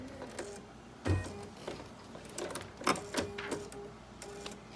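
An embroidery sewing machine stitches a basting box, giving a close, quiet mechanical whir broken by irregular clicks and clunks, with one heavier thump near the start.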